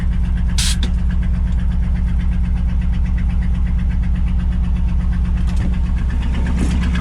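A 1975 Ford F750 pipeline truck that has sat unused for a long while idles loudly and steadily up close, its low, even engine rumble broken only by a couple of brief clicks.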